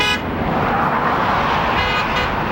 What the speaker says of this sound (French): Le monde nous klaxonne, ils sont gentils